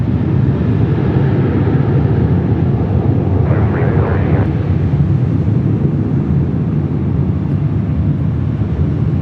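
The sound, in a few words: Southwest airliner taking off at LAX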